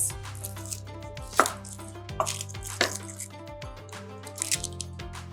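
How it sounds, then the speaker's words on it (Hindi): Onions being sliced with a knife on a board, a handful of sharp, uneven chopping knocks with moist crunches between them, close and clear over a faint background hum, no talking. "इन्हनि खे कंदासीं सिंपली स्लाइस"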